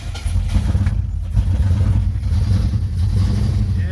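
A 1966 Ford Fairlane 351 CL engine runs rough just after its first start following a winter in storage. It gives a steady, loud, low rumble that stays close and continuous throughout, with no voices over it.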